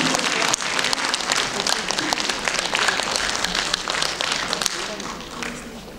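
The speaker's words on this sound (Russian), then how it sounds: "Ваши аплодисменты." A theatre audience at a stage performance breaks into sustained, dense applause, many people clapping at once in a loud, continuous roar that holds steady throughout with only slight swells.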